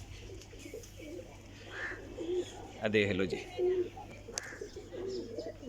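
Pigeon coos from a breeding pair in a coop, soft repeated cooing calls close by with a few chirps, under a voice speaking over a low steady hum.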